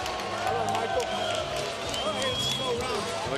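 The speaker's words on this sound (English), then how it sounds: "The crowd is very enthusiastic about this title fight." A boxing title fight crowd, Daniel Santos versus Michael Lema, makes a steady roar of noise, with a commentator talking over it throughout.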